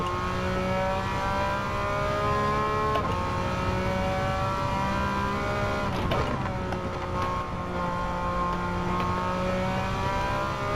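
Race car engine in Gran Turismo 7 held at steady high revs, a loud continuous whine with brief dips and shifts as it works through corners, alone without talk.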